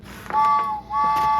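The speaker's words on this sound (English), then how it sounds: "And it has a train whistle." A toy train whistle sounds two clear, sustained tones separated by a brief pause, close and bright.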